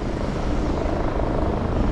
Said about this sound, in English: That fire helicopter's still overhead.